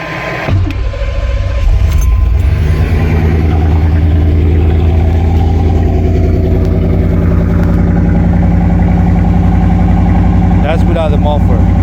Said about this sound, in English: Let's turn it on and see how it does without the muffler.